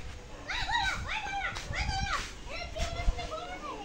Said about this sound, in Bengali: কুকুর খেপছে কিন্তু